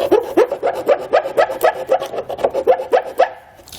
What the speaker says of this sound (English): I'm just going to use a file to kind of clean up these edges